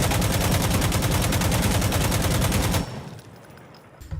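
An AKM rifle fitted with a compensator fires one long rapid burst in Insurgency Sandstorm, a loud, close string of evenly spaced shots that stops abruptly, leaving a short fading tail.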